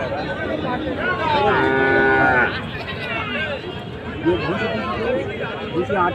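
A Dugli calf at a crowded village cattle market in Joynagar, South 24 Parganas, West Bengal, with a drawn-out bovine call rising near the middle over steady crowd babble and people talking close by.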